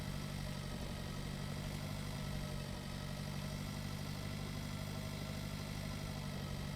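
Tractor engine in the Pure Farming 2018 farming game, a steady low, dense idling rumble that stays even and unbroken throughout, with no voices over it.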